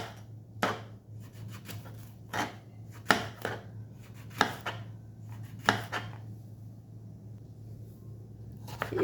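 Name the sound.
chopping tender vegetable into small rounds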